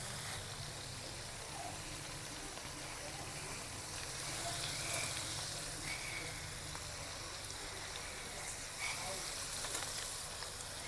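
Ginger paste frying in hot oil for a murrel (snakehead) fish masala curry, a steady soft sizzling hiss that continues evenly throughout without talk.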